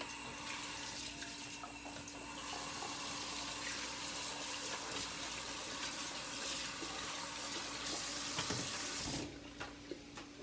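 Hands are washed under a running kitchen tap, a steady, quiet stream of water splashing into the sink throughout, with slight changes as the hands move under the flow.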